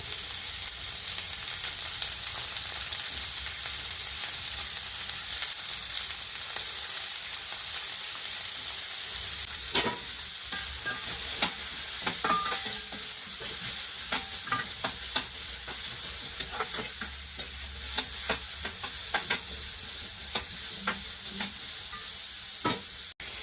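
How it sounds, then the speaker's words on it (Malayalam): Sliced garlic fries in hot oil in a pan for a Kerala okra milk curry, a long even sizzle that turns busier halfway as repeated clicks and scrapes of stirring join in, with no talk. "അതിലേക്ക് മൂന്ന് വെളുത്തുള്ളി നീളത്തിൽ അരിഞ്ഞ് ചേർത്ത് കൊടുക്കാം"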